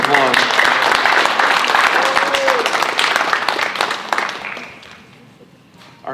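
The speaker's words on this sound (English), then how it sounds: "Let's give her one more round of applause." A crowd applauds at a high school national signing day, with dense steady clapping and some voices that gradually fade out toward the end.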